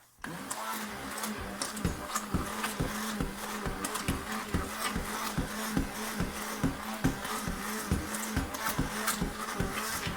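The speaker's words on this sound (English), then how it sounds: "I think I'm going to zap this one more time with the stick blender just to make sure everything's all done" A stick blender mixes a batch of hot process acne soap, its motor buzzing in a fast, steady pulsing rhythm throughout, close and even, with no talking.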